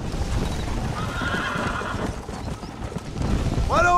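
Horse in the video game Red Dead Redemption whinnies near the end of a short stretch of hoofbeats, its neigh rising over a busy, loud game mix with a brief voice.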